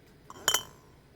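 Clean glass jars clink together as they go into hot water for jelly making, a faint tap followed by two quick bright clinks close by in an otherwise quiet room.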